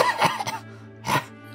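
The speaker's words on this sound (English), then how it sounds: "Kind of smoker's cough." A short smoker's cough in two rough bursts with a pause between them, close and moderately loud, with no talking.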